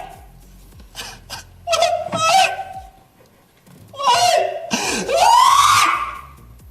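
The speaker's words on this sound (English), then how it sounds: "This sounds like a female scream." A female scream heard in a viral clip, coming as loud wailing, moaning bursts broken by gasps and short breaths, with a quiet gap partway through.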